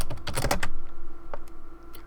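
Quick bursts of keystrokes on a computer keyboard, a dense flurry at first then a few scattered taps, close and fairly quiet with no talking.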